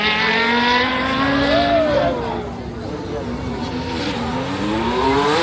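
Mercedes-AMG Project One hypercar launches from the start line at a supercar festival, its high-revving engine wailing loudly and rising in pitch through shifts, a crowd murmuring and a commentator talking over it.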